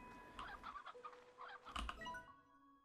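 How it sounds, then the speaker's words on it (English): A chicken clucks in the video game Slime Rancher 2, a few short clucks and a low thump over soft tonal game music, fairly close and clear. "A space chicken."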